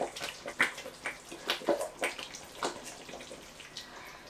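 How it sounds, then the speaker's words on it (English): Hot water is poured into a pot of palm nut and peanut butter soup, producing close, irregular splashing and gurgling bursts that gradually soften. "Now I have to add water to voluminize it, and I'm using hot water because I want to continue the cooking process."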